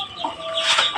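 Native (deshi) chickens with grown chicks cluck and chatter close by, a short busy burst of overlapping bird calls with no talk.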